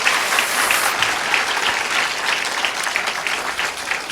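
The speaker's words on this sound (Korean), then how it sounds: "우리 서로를 위해서 한번 박수 한번 하겠습니다" Sustained applause from a large church lecture audience, a dense, even wash of many hands clapping at once, steady and moderately loud throughout with no voices over it.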